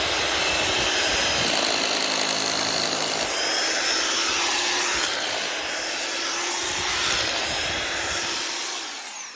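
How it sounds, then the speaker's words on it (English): A steady, loud mechanical whine of a drill boring into a tree stump, running continuously with slight variations in pitch and load throughout. "We're just going to drill in here a bit, try and connect this hole."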